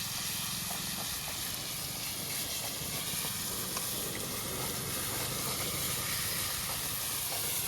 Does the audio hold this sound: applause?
no